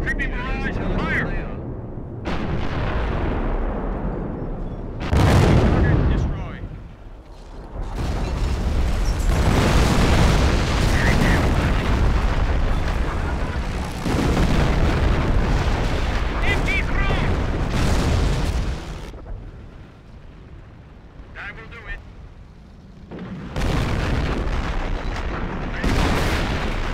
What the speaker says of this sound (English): Creeping barrage. Fire.